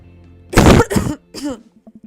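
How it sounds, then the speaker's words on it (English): A person clears their throat in a few loud, rough bursts, then falls quiet apart from faint low hum. "I clear my throat."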